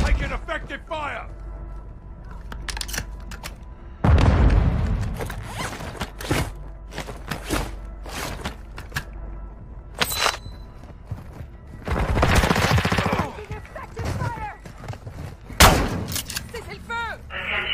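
Flash grenade bursts and gunfire in Call of Duty DMZ, Building 21: several loud sharp blasts and crackling volleys spread through the clip, with a voice talking in between.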